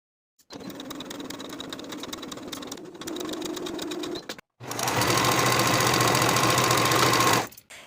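A sewing machine stitches a half-inch seam on shorts panels in steady close runs, stopping briefly, then a louder, faster overlock-like burst finishes the raw edges.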